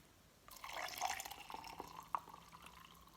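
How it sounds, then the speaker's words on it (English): Ice cold water is poured into a strong insulated cup, a faint, steady trickling stream with a few splashy drips, starting after a brief quiet moment and tapering off near the end. "And then I just put the water, whatever water you're using."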